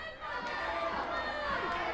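Wrestling crowd at a Cleveland All Pro Wrestling match rallying behind Nigel McGuinness, a dense roar of chanting and cheering voices that fills the arena, with commentary talk running over it.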